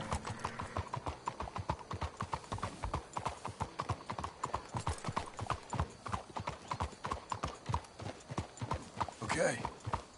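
Horses' hooves clip-clop steadily in Red Dead Redemption 2, a dense, rhythmic run of close hoof falls over game ambience that continues through the whole stretch.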